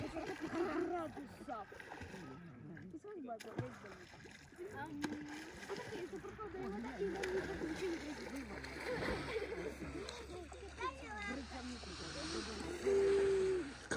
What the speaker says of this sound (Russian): Народ все купается.